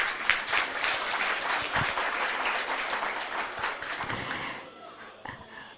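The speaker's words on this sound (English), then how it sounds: "Again, you deserve to applaud yourself." A crowd at a refugee Australia Day celebration claps in a lively burst of scattered, close hand claps that thins out and fades over the final second.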